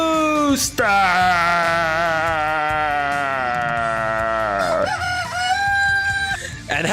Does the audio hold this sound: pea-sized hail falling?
no